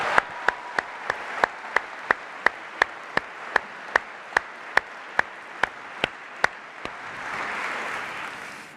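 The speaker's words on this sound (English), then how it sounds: "let's give them a round of applause too" A steady run of evenly spaced, crisp claps rings out in a great hall during a university winter graduation ceremony, about three per second, before fading into a soft murmur of crowd noise.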